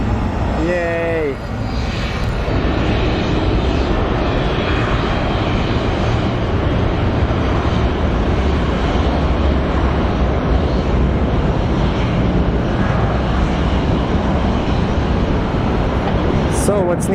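Aircraft at Sky Harbor airport, including National Guard refueling planes, make a loud, steady broadband roar that sustains throughout, with a short tonal whine early on and wind buffeting the microphone.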